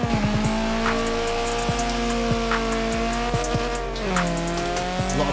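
A 1986 Ford Escort RS Turbo launches in Forza Horizon 4, its engine revving in rising, stepping tones through quick gear changes, with a steady loud drone and hints of tire squeal.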